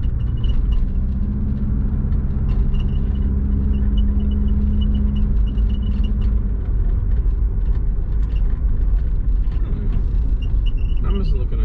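A compound-turbo Subaru engine runs under light throttle after deceleration, a dense, steady low rumble with a faint sustained tone partway through, close and continuous.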